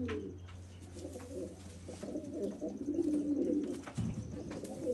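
Pigeons coo repeatedly in a loft of pedigree Chena Bhuttiwala breed birds, soft low throaty calls overlapping one another at close range against a steady background hum.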